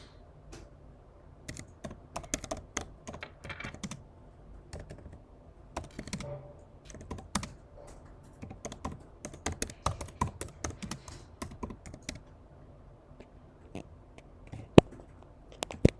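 Keys clatter on a computer keyboard as Python code is typed, bursts of close, quick taps with short pauses between words, alone in a quiet room.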